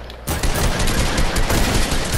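Rapid gunfire from a first-person shooter video game, a dense unbroken burst that starts abruptly after a brief quiet moment and stays loud and close throughout.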